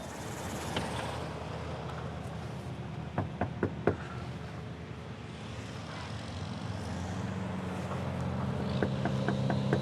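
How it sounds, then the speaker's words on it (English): Knocking on the front door of a one-story house: a quick burst of four sharp raps, fairly close, over a steady low engine-like rumble from outside, with a faint second series of light taps near the end. "As I knocked on the door"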